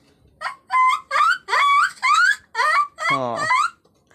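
A voice imitates a dog barking, giving about seven quick, high, yelping barks in a row, close and loud, ending in a longer wavering yelp.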